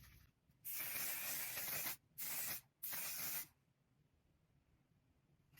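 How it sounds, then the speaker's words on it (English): Three bursts of makeup setting spray hissing from an aerosol can, a long one, a short one, then another long one, close up and loud against a quiet room. "It's the On Till Dawn setting spray."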